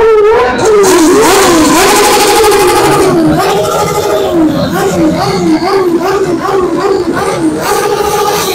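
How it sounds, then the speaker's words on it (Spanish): A BMW 1200 motorcycle arrives at a crowded street ride event, its engine revving and rising and falling loudly in the foreground while a crowd chatters and people talk throughout. "ahí va llegando una BMW 1200."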